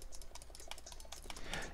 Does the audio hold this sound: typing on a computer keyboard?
yes